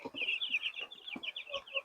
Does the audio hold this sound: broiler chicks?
yes